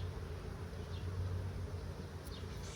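Honey bees hum around open hive frames in a nine-frame setup, a steady close drone with a low buzzing pitch and occasional individual bees whizzing past, no talking.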